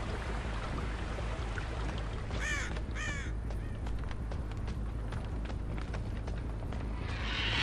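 Crows caw twice in quick succession inside the Dead by Daylight game world, a faint, hoarse pair of calls over a steady low ambient rumble, followed by scattered soft clicks and ticks.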